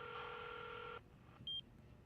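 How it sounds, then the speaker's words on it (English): A steady telephone dial tone in a video game rings out in a quiet sealed office, then cuts off and is followed by a single short electronic beep on the line. "A dial tone echoes through the quiet space before the call is answered."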